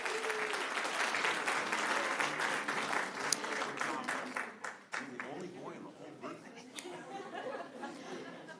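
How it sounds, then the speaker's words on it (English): Audience at a city council meeting applauds students, a full burst of clapping that tapers off midway into scattered claps and murmuring chatter. "And one more round of applause for all of those students."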